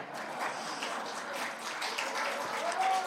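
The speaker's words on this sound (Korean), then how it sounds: "이럴 때 박수를 쳐야 되는데 타이밍이 안 맞네" Audience at a Korean association presidential election joint campaign rally in Seoul gives a burst of clapping, a dense, steady patter of many hands lasting a few seconds at moderate level, with some voices mixed in.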